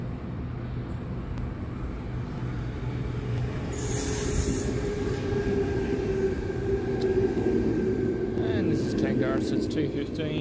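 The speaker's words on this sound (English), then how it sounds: "so I'm getting on the next Hornsby service" Sydney Hornsby-bound passenger train at a suburban station, a steady low rumble and rolling hum that swells slightly midway, with a brief high squeal near the start and faint metallic rattling later, no talk.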